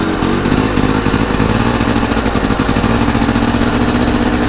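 A Polaris Scrambler 400 ATV engine runs loud and steady close by, its rough, throbbing note with a carburetor needing tuning holding constant throughout with no pauses.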